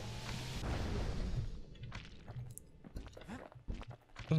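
A grenade explosion in the video game Bastion: a burst of loud, booming rumble opens the clip and fades over a second or so, followed by scattered clicks, thuds and small impacts.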